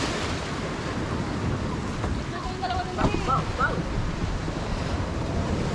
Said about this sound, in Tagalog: malakas ang alon mga kabarako